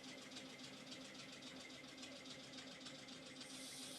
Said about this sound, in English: The sound of the steam engine is a little bit loud